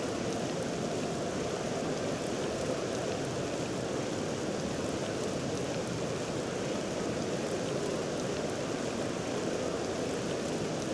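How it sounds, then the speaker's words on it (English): Rain falls at a cricket ground during an Ashes test match in Birmingham in Cricket 07, a steady, faint hiss of rainfall that holds evenly throughout with no other sounds. "It seems to have started raining and umbrellas are going up around the ground"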